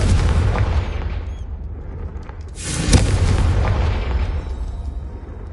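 A Confringo spell in Hogwarts Legacy detonates with a booming blast, a sharp burst near the middle over a rumbling, roaring background that swells and fades.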